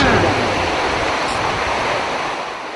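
Large storm waves driven by a typhoon crash on the shore at Hinatuan, Surigao del Sur, a loud, steady roar of surf mixed with wind noise buffeting the microphone.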